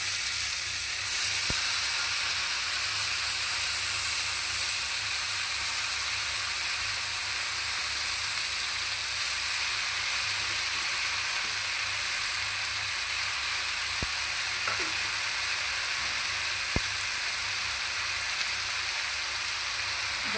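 Salted ash gourd (chal kumro) pieces sizzle and fry steadily in a pan, a constant close hiss with a few faint clicks of a utensil.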